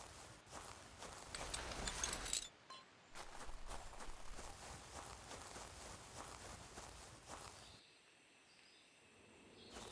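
Footsteps crunch steadily through terrain in the hunting video game Prehistoric Hunt, a soft continuous walking rhythm with faint ambient insects and birds, pausing briefly before resuming.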